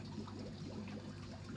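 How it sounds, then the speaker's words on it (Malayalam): Water running into a small home fish tank being filled before fish are added, a faint, steady trickle and pour with no voices. "അപ്പോൾ ഇത് വെള്ളം കയറ്റി തുടങ്ങി ടാങ്കിലേക്ക്."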